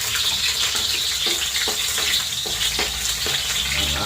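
Onion sautés in cooking oil for a shrimp dish, a loud, close, steady sizzle with a rushing crackle and a few rhythmic scrapes of stirring, no talk.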